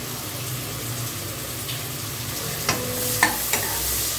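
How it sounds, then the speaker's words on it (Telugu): Onions and green chillies fry in a pan for veg biryani, giving a steady low sizzle with a few sharp stirring scrapes near the end. "ఉల్లిపాయలు ఆల్మోస్ట్ బ్రౌన్ కలర్ వచ్చే వరకు ఫ్రై చేసుకోవాలి।"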